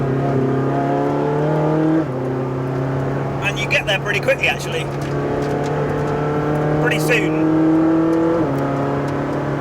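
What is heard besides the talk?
Ferrari 458 Speciale engine driven hard on track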